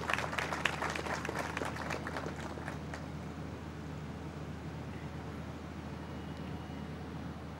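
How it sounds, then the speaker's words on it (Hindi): Applause from a large stadium crowd at the inauguration of Karachi National Stadium, heard at a distance for the first few seconds, then thinning out into a low crowd murmur. "तो पीसीबी की टीम के लिए भी बहुत सारी तालियां प्लीज़।"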